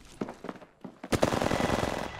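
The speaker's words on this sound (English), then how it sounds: "They spotted me. I'm taking shots." Gunfire during an Apex Legends fight: several sharp shots, a short pause, then a denser close burst of rapid automatic fire.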